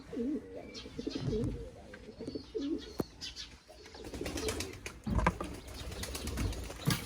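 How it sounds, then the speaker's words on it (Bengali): Bombay pigeons in a farm enclosure coo in low rolling bursts, joined by brief wing flaps and scuffling, close by, with chirps from other birds behind. "বোম্বাই কবুতরগুলা।"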